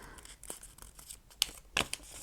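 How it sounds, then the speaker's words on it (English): A paper pleat being folded for an origami rose gives soft rustling and crinkling, with a few sharper crackles of creased paper toward the end, close and fairly quiet. "So I'm just going to sort of fold it over and fold it back"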